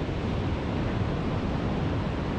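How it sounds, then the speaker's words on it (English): Sea waves and swell rolling onto a beach, a steady broadband wash of surf with wind noise and no distinct breaks across the short stretch. "what this tide and the swell and the waves are doing"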